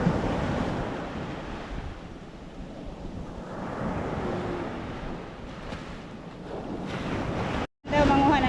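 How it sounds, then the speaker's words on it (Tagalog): Water waves wash and surge continuously at close range, mixed with rushing wind buffeting the microphone, before a brief dropout and a renewed loud swell. "Yung alon ng tubig oh."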